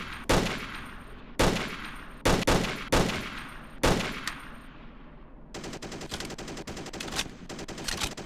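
Gunfire in the ARMA video game: several loud single shots spaced out at first, then a sustained rapid burst of automatic fire, close and sharp with no voices.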